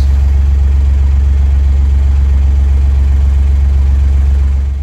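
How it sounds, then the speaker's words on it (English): A preheated boat diesel motor idles steadily just after starting, a loud, even low rumble with a constant drone that holds throughout and eases slightly at the very end. "So the motor's just started twice in a row, which is not uncommon."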